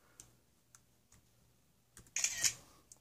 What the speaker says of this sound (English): On the keyboard, you're going to press the Command, the Shift, and the number 3 button.